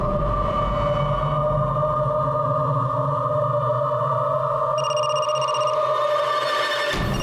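A phone ringing indoors with a steady, warbling electronic ring tone that sustains for several seconds at moderate volume over a low background hum.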